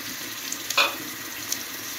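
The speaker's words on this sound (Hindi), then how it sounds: "अब इसमें प्याज डालते हैं।" Onions going into hot oil for a kaleji curry give a soft, steady sizzle with one brief sharper crackle, close by and with no talking.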